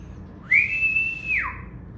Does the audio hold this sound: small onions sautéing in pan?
no